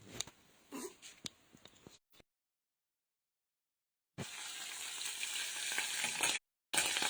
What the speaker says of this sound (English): because the chili has some moisture in it, it will spit a bit